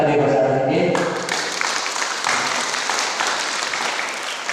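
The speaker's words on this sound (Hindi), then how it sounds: "हम लोग एक बार जोरदार ताली बजा देंगे" Wedding guests break into loud clapping for the couple, entering after a brief stretch of tonal music or voice and then holding a steady, dense round of applause.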